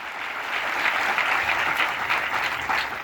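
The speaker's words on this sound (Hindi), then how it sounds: "जोरदार तालियों से" Steady, loud applause from a gathered crowd at an event honoring a wrestler, dense clapping sustained evenly for a few seconds without talk.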